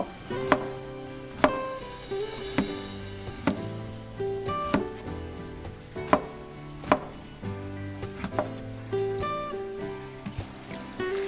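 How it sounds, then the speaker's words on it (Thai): A knife chops banana blossom into thin strips on a board, giving sharp, fairly close taps at an uneven rhythm, one or two per second, over a quiet kitchen background with no talking. "หลังจากนั้นก็ซอยให้เป็นเส้นย่อยๆ"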